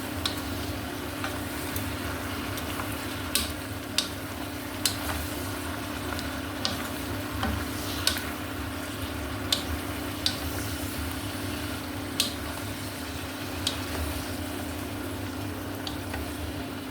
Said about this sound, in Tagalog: Ginisa na yan guys. Ginisang alamang na yan. May sili.